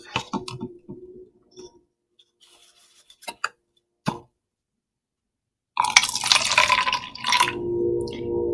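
Water drains through screening material, with a few scattered drips and clicks followed by a louder continuous trickling pour in the final seconds.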